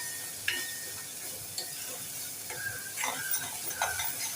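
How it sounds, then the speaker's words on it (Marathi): A spoon stirs ground masala paste sautéing in a pan for a wet cashew curry, soft sizzling under repeated scraping and clinking strokes, close and fairly quiet, with no talking. "आता हे वाटण छान परतून घेऊया"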